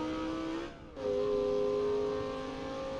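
Powerful car engine in BeamNG.drive, a steady high revving drone that dips briefly and then climbs back to a sustained, loud whine.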